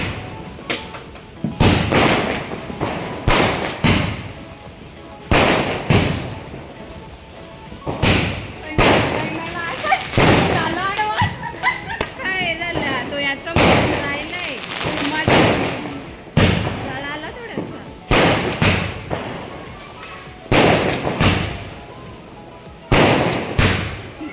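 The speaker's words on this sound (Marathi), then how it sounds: "आता सगळे फटाके फोडायला लागले" Repeated sharp firecracker bangs burst loudly and irregularly during Diwali Lakshmi Puja, some in quick clusters, with people talking and a crackling fizz between the blasts.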